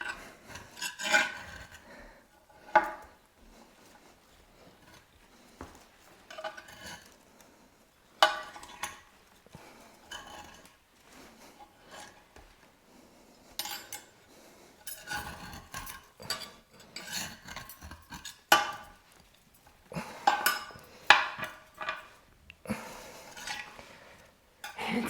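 A long fork scrapes and rasps around the inside edges of a large plant pot while a giant Monstera deliciosa is repotted, giving irregular bursts of gritty rubbing and scratching, close up, with quiet gaps between strokes.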